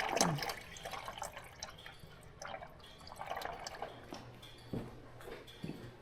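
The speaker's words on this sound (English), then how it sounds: "I'm going to drain the transmission right after here too, because the amount of water I've seen coming out of that." Water-contaminated fluid drains from the transmission of an old homemade skidder, a faint steady trickle with scattered drips and light clinks, close by and quiet.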